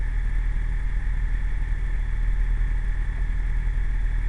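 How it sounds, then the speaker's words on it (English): A boy racer's turbocharged car engine pulls away with a steady, loud low rumble and drone that holds constant throughout, without talk. "that's the Resident Boy Racer pulling off"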